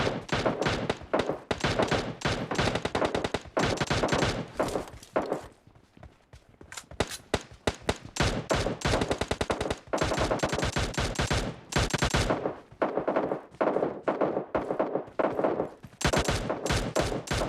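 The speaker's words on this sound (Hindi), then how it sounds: "हमें बाहर की साइड से गोलियां चलने की आवाज़ आती हैं" Rapid automatic gunfire in the video game PUBG rattles in long sustained bursts, loud and close, with a short lull of scattered single shots before the firing resumes.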